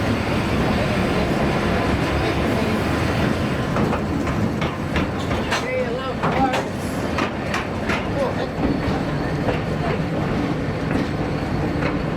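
A double train rumbles along the rails at VGR with a steady roar and rhythmic clacking, some squealing metallic accents mixed in, loud and close throughout.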